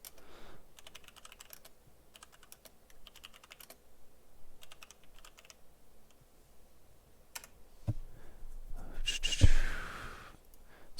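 Computer keyboard being typed on in quick bursts of soft key clicks separated by short pauses, fairly quiet and close, ending with a louder rustling handling noise.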